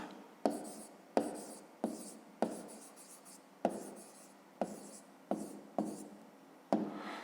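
A pen or pencil writes an answer by hand for a fifth-grade maths exercise, with nine or ten sharp, evenly spaced strokes scratching across paper, close and clear, with no talk.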